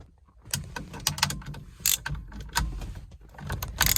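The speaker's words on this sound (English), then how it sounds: "I'm just gonna get those bolts tightened down in the center" Ratchet tightening the steering wheel center bolts on a twin-turbo LS Chevelle, with short bursts of clicking and mechanical rattles, close but fairly quiet.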